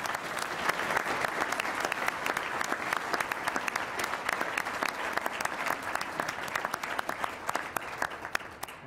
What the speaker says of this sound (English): I invite the audience again to applaud the candidates and the Chamber for their efforts